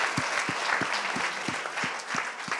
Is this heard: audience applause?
yes